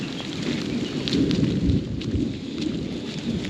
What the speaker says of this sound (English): The rain's actually getting a bit less intense